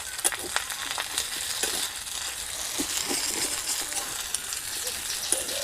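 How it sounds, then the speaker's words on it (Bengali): A filling for pumpkin-leaf rolls frying in a little oil with curry leaves gives a steady, fairly quiet sizzle with light crackles and occasional stirring clicks, and no voices. "এতেই ভাজা হয়ে যাবে"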